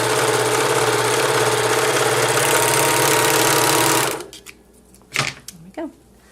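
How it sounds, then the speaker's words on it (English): A sewing machine stitches a seam in very stretchy fabric, running loud and steady for about four seconds and then stopping, followed by a few quieter handling knocks and rustles. "I want to make sure that I don't really pull or stretch on this fabric. It's very stretchy and you don't want it to stretch while you're stitching"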